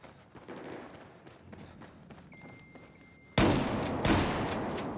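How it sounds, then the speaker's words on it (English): Shotgun fire in the video game Battlefield: after a quieter stretch of movement and faint tones, a loud, close blast hits suddenly, followed by a second heavy shot a moment later. "Shotgun time."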